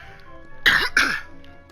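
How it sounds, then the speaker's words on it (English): A person gives two quick, close, loud coughs in a row against a quiet background. "I've been having a little coughing spell lately"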